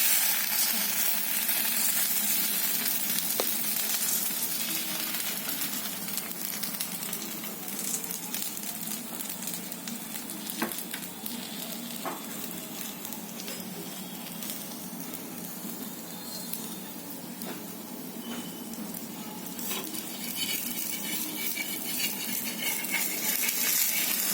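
Thalipeeth fries on an iron griddle with oil, a continuous loud sizzle and crackle that holds steady throughout with occasional small clicks of a spatula, no voices over it.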